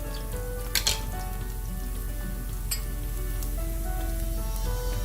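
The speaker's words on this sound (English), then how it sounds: "gently fry the garlic in the oil without browning it too much or burning it" Garlic fries gently in hot oil over lowered heat for a Chettinad-style prawn masala, giving a steady, close, even sizzle with a few sharper pops, and no talking.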